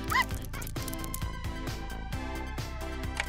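Cartoon dogs bark and yip in short, excited bursts over busy background music, running around a kibble-dispensing machine.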